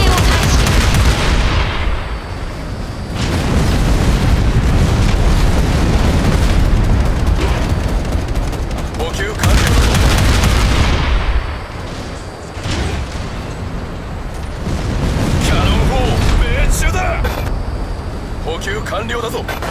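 Cannon fire and explosions in the Figureheads mech game, heavy booming blasts and dense rumbling volleys coming in long surges with brief lulls, loud and close, with a voice speaking over them.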